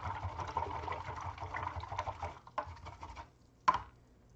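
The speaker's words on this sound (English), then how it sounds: "let me rinse this brush out" A paintbrush is rinsed in water after acrylic painting, giving a soft, steady sloshing and swishing patter with a few sharper knocks near the end, close by and moderately quiet.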